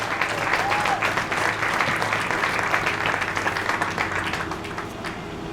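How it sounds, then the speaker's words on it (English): A crowd applauds the 2020 sideline cheer team at a high school athletic awards ceremony, with dense, sustained clapping that holds steady and full for several seconds before easing slightly. "Let's give a big round of applause for our 2020 sideline cheer team."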